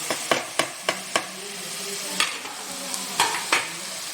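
Onions browned in a pan are stirred, the spoon scraping in a steady run of sharp clicks about every third of a second over a soft, continuous fry, with tomatoes and green chillies being added for an arbi dish.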